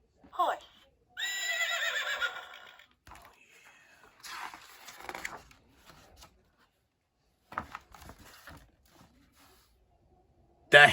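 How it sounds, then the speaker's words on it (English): Horse neighing in a farm setting, with one loud, quavering whinny early on and brief snorts and shuffling noises around it, and a voice speaking between the sounds. "The horse gallops in the field."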